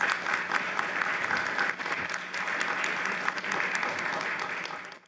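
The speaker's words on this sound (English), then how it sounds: "Let's give them a round of applause." A crowd applauds steadily at a candidate debate, dense clapping that holds for several seconds before fading at the end.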